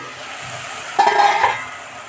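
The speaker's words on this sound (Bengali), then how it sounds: "আবার আমি ঢাকা দিয়ে এটাকে কষাবো।" Curry being stir-fried and braised in a covered pan, a soft, even sizzle with a brief louder burst of scraping and clinking from stirring partway through.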